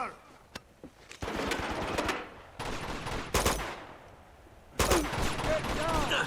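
Gunfire in the action game Uncharted 2, rapid automatic bursts and single shots with echoing tails, loud and close, several separate volleys over a few seconds.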